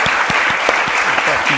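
Audience applause for Bob Inglis after a talk on communicating environmental issues, dense steady clapping from a crowd with a few louder nearby claps, lasting the whole short stretch with faint voices mixed in.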